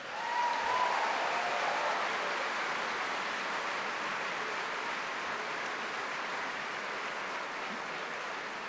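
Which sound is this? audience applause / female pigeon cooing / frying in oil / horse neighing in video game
audience applause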